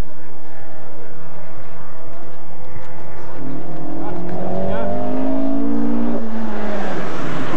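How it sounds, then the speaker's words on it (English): A Peugeot rally car, Noel Farrell's, passes on a stage of the 1989 Carlow Rally, its engine note rising and sweeping through, loudest toward the middle before easing away, over steady outdoor background noise. "the Peugeot of Noel Farrell goes through."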